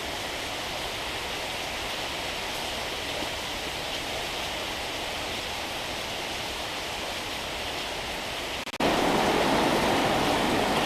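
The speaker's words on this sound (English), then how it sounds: "Still raining, still blowing." Heavy rain and gusting wind during Hurricane Harvey in Houston make a dense, unbroken hiss, which jumps abruptly louder near the end as the downpour intensifies.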